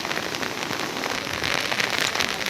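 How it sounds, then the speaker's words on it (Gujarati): Steady, dense rain falls near a river confluence at Somnath in windy weather, a constant close patter on surfaces with no let-up. No voices are heard. "હવે પવન અને વરસાદ બંને સાથે ચાલુ છે"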